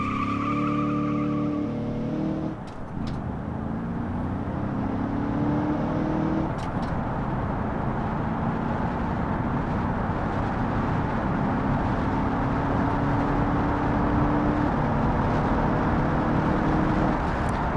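A manual-transmission car in the BeamNG driving simulator accelerates hard, engine tone climbing through gear changes with tyre squeal, a steady loud roar running throughout.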